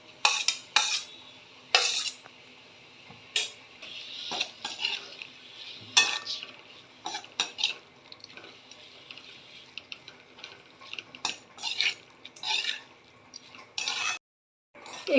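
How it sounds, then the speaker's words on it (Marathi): Raw mango stirred into a hot onion tempering in a pan brings repeated spoon scrapes and clinks against the metal over a faint sizzle, with a short pause near the end. "आता मी कैरी घालून घेते आहे."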